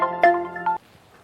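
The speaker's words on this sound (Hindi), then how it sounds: "अरे साहब सिंह का फोन।" A mobile phone ringtone plays briefly and close, a bright electronic melody lasting under a second before cutting off into quiet.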